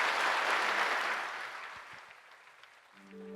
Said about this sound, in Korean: 출산 장려금 드릴 때 박수로 축하해 주시기 바랍니다.